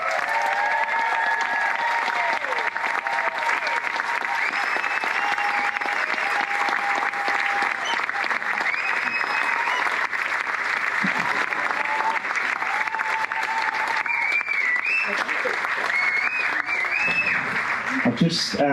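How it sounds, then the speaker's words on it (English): Steady, loud audience applause at a live trail ultramarathon podcast event, dense continuous clapping from a large crowd lasting throughout, with a few voices and whoops mixed in. "could we give them too a big round of applause and a tune?"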